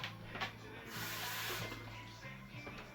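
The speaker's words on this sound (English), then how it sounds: "let me rinse this spoon off" Running water hisses from a kitchen tap as a spoon is rinsed under it, a faint, steady spray lasting a few seconds, with a low hum in the room.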